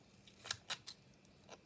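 Scissors snip through scrap paper at a desk, three close, crisp cuts in quick succession followed by a fainter fourth snip after a short pause.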